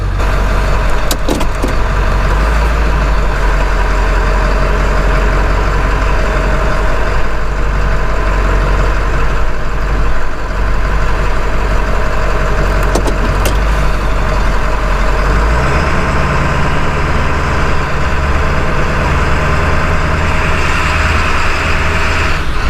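A 7.3 Powerstroke diesel pickup truck drives with a loud, continuous low engine drone and rumble from inside the cab. The engine note shifts about two-thirds of the way through. No one speaks.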